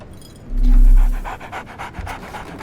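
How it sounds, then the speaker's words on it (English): A dog pants in quick, breathy rhythm in the Sherlock Holmes: The Awakened video game, close and steady after a short low whimper. "So, Barnes has a dog now."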